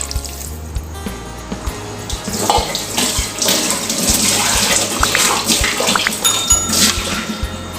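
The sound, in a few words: measured water poured into cooking pot with rice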